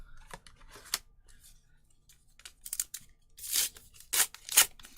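Trading card packs for hockey and anime sets torn open by hand without the pull tabs, a few sharp rips and crinkles close up, growing louder and denser toward the end after quieter rustling.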